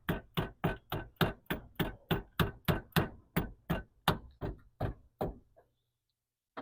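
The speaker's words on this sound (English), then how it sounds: "get your trusty hammer, mallet, tap it down a little bit" Sharp hammer or mallet taps on a car battery terminal, about fifteen loud, close knocks in a steady rhythm that slows and thins toward the end before stopping into silence.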